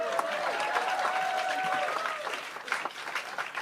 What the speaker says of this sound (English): Oh, keep clapping, I'm not ready yet.